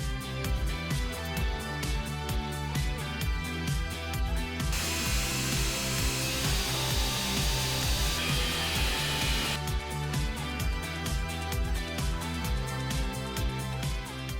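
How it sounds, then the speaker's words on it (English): An angle grinder cuts a hole through a truck's MRT canopy for a power inlet, a loud continuous high-pitched whine and rasp of the cutting disc running steadily for the whole stretch, with the pitch shifting partway through. "I get to use one of my favorite tools, the trusty old grinder."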